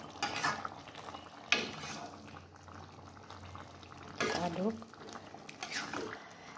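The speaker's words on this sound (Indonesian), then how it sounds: "Lalu kita aduk" Salted fish balado sauce being stirred in a pan, with close scraping strokes and soft sizzling in a few bursts, while someone talks over it.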